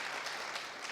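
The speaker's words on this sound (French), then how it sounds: "On peut l'applaudir encore une fois très fort." Audience applause at a televised Burkinabè business awards show, a broadband wash of steady clapping at low level with no gaps, heard throughout with no other sound.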